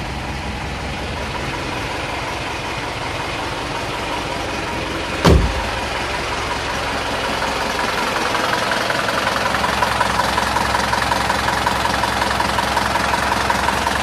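An Isuzu Panther engine idles close by with a steady low rumble, interrupted once by a sharp click partway through, then continuing evenly.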